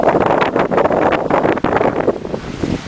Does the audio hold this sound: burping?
no